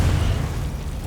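A Confringo spell explodes in the Hogwarts Legacy video game, giving one dense, loud, rumbling burst that fills the short moment without fading.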